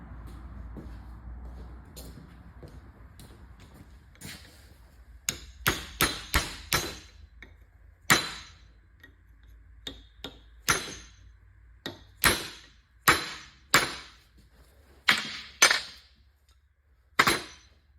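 Sharp metallic hammer strikes on a punch knocking out pins ring out one after another, a dozen or so hits spaced irregularly, close and loud against a quiet background.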